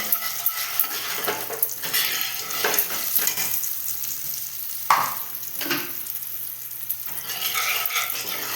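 Spices with turmeric and chili powder frying in a pan for a pabda fish curry, a continuous close sizzle punctuated by repeated scraping strokes of a spatula and occasional metallic clinks.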